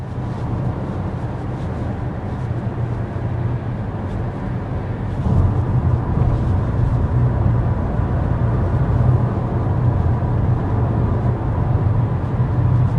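Cabin noise inside a 2024 Audi Q3 cruising at 55 mph, a steady low road and wind rumble that grows slightly louder partway through, continuous with no talking.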